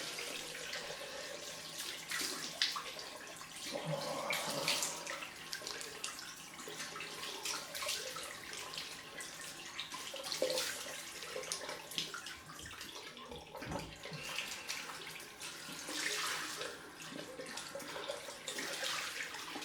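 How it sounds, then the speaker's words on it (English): Cold water runs steadily from a bathroom tap during a head shave, a continuous broadband splashing hiss with small surges and no voices. "Let's get the cold water on this."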